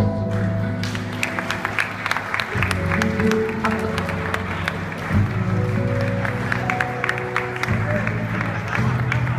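A crowd applauds steadily throughout, with music sustained underneath and voices mixed in.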